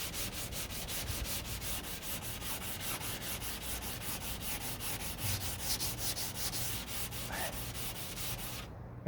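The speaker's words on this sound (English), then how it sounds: "so now I just got 400 grit, and this stuff sands really, really easy and fast." Hand sanding body filler on the passenger door of a 1969 C3 Corvette with 400 grit sandpaper, a steady rhythmic scratchy rubbing of back-and-forth strokes, close and continuous, stopping just at the end.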